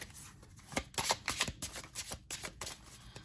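Tarot cards riffle and slap together in quick, crisp bursts, shuffled by hand close up with no talking.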